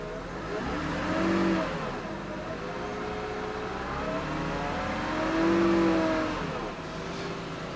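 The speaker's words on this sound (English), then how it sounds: "we'll go back and rev the engine with loads on." Car engine revving during a battery and alternator charging-system test with electrical loads on, two rising-and-falling revs climbing from idle and settling back, close and clear with no talking.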